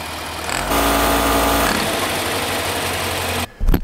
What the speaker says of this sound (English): start the compressor back up again.